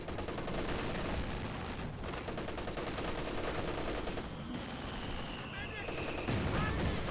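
Machine gun fire in an Advance Wars: Days of Ruin-style war game, steady rattling bursts among other battle effects, with a few higher whistling tones near the end.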